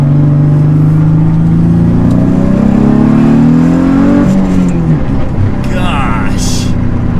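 A heavily modified turbocharged Nissan Z revs hard from inside the car, a loud engine note rising steadily in pitch before dropping off as it shifts, with a brief whine near the end.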